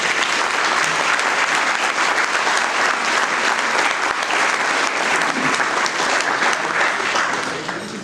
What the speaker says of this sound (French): Ils méritent une bonne main d'applaudissements.